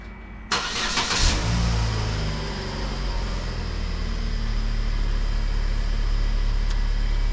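A Chevy Sonic's engine cranks and starts with a sharp burst, triggered by pressing the trunk button, then settles into a steady, close idle rumble that continues to the end.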